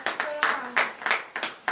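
Rhythmic group clapping in acclamation of Jesus at a morning prayer service in Benin, about six sharp bursts of hands in steady succession, fairly loud and close, with voices calling out between the claps.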